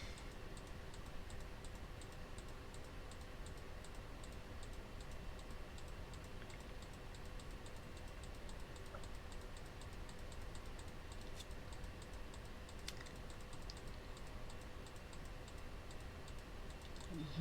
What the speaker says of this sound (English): You hear me clicking, I know.